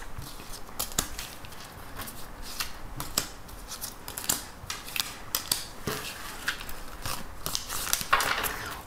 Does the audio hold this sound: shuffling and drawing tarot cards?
yes